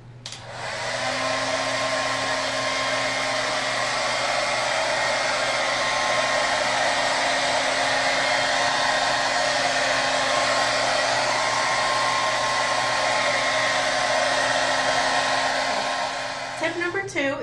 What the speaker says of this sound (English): You're going to use your blow dryer while you use your brush